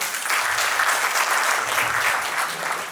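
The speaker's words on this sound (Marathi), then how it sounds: "एकदा त्यांच्यासाठी जोरदार टाळ्या" Hearty applause from a gathered audience at a 75th birthday celebration for Smt. Vimal Mahale, steady and loud clapping filling the whole stretch without a break.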